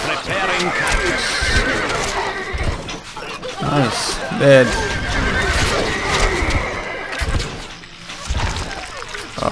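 Horses neigh and whinny repeatedly in the medieval castle-siege game Stronghold Crusader, loud game audio mixed with battle noise while someone talks over it.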